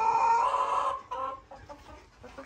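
Laying hens about a year old cluck close by, a loud burst of hen calls at first, then quieter intermittent clucks and squawks.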